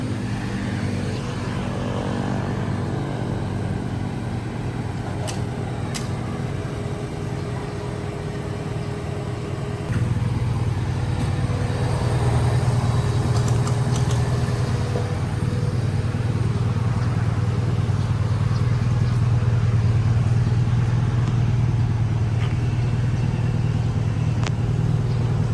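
A Honda Civic EG hatchback engine idles steadily and quietly nearby, a continuous low hum that grows slightly louder and fuller partway through, with faint background noise and no talking.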